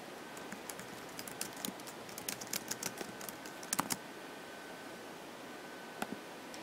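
Soft keystrokes on a computer keyboard tap in irregular bursts, a quick run of clicks followed by a pause and a final lone press, faint over quiet room hiss.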